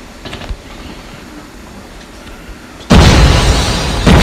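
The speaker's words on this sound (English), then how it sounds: "Grenade" Grenade explosion in the Call of Duty video game, a sudden loud broadband blast that starts nearly three seconds in and fills the rest of the clip after quieter game background noise.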